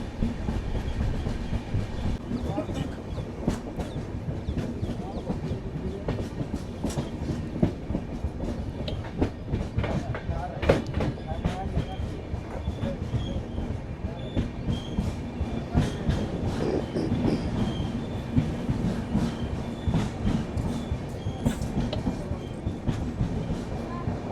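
A moving train on the Kolkata to Gangtok route rattles and clatters on the rails near Kishanganj in a steady rhythmic clickety-clack, heard from inside, with occasional faint voices.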